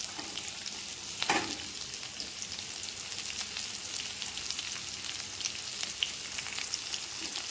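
Sliced coconut and onions sauté in a pan with a steady, even sizzle, plus one sharper stirring scrape near the start and a few light clicks later.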